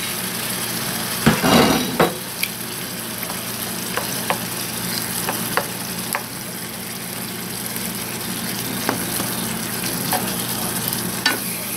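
Tomato sauce and water stirred in a hot pan for meatball spaghetti, a steady sizzle with occasional scraping clicks of the spoon and one louder clatter early on, no voices.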